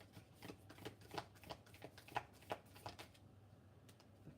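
A deck of cards being shuffled, the riffle broken into a string of quick papery clicks and flutters that come in bursts and then fade out toward the end, close and fairly quiet with no voices.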